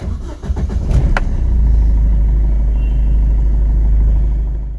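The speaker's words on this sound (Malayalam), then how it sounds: "വാഹനം സ്റ്റാർട്ട് ചെയ്യാൻ പോവുകയാണ്." A car with a blinking check engine light starting up: a short grinding crank from the starter, then the engine catches and settles into a loud, steady idle up close.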